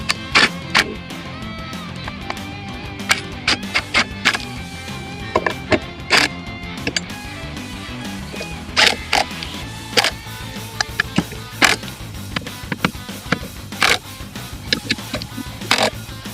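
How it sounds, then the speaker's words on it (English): Bolts being tightened on a Jeep Wrangler JL spare tire hinge reinforcement bracket, with repeated sharp metallic clicks and ratcheting bursts in irregular clusters over a steady low background, close and fairly loud. "I'm going to go ahead and tighten everything down."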